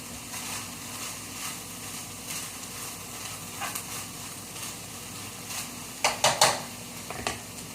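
Rice cooks in a pot for Ecuadorian chicken and rice, giving a soft continuous sizzle and simmer. A spoon scrapes and clinks against the pot in a few sharp bursts near the end.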